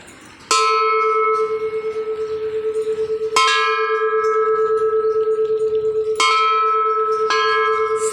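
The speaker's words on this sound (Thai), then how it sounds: "นี่ก็จะเป็นระฆังนะคะ ขอตีหน่อยนะ" A metal temple bell at a Thai temple is struck four times at uneven intervals, each strike ringing out loudly with a long, pulsing sustained tone between hits.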